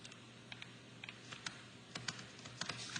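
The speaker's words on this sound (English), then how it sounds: "I'll type it down here." Quiet, scattered keystrokes on a computer keyboard, irregular clicks in short bursts over a faint steady room hum, no talking.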